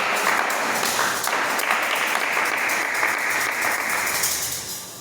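A church congregation bursts into sustained applause for the Lord during a French-language sermon, a dense wash of many hands clapping close and loud for several seconds before starting to fade.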